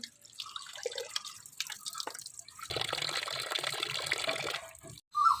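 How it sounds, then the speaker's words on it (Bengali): Water runs and splashes close by as fish is washed, with an uneven trickle that swells into a steadier gush before briefly cutting off. "মাছ ধুইতে চলে আসলাম"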